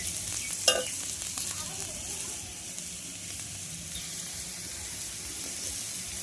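Soft, steady frying sizzle with occasional scraping as food is stirred in a pan with a spatula, fairly quiet and close, with one sharp clank early on.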